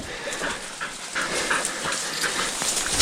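Pig-hunting dogs pant hard and close up after a boar hunt in the Coromandel, New Zealand, a steady, rapid, breathy rhythm with no voices.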